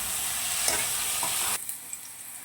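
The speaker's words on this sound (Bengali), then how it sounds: "এবার আমি আলুগুলো ভালো করে ভেজে নেব" Potato pieces seasoned with turmeric and salt sizzle steadily in hot oil close up, with a couple of light stirring taps before the hiss drops to a quieter level partway through.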